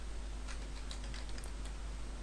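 Computer keyboard typing while writing code, a quick run of soft, faint key taps close to the microphone, partly buried in steady background hiss.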